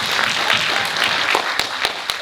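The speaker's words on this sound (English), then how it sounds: "So would you give yourselves a round of applause?" An audience at a community prevention and safety event gives a round of applause, a dense, loud wash of clapping with a few sharper individual claps standing out near the end.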